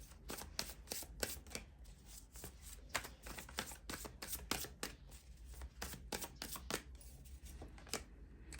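Tarot cards are handled and shuffled for a reading, giving a quiet run of quick papery flicks and soft taps in an irregular rhythm, close but faint, with no talk over them.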